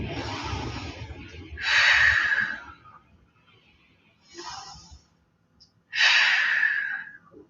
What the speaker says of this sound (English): Gonna take 2 more full deep breaths here.